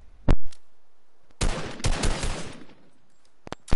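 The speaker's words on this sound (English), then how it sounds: "He just got shot by me." Gunfire in an arena video game: two sharp isolated shots, then a dense burst of rapid fire lasting about a second, followed by quiet and a couple more crisp shots at the end.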